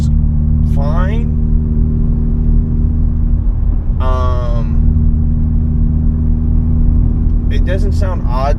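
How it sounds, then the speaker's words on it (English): A 400-horsepower Ford Focus ST hums in a low, steady drone while driving, the engine note constant and close, with someone talking briefly over it. "The motor sounds fine."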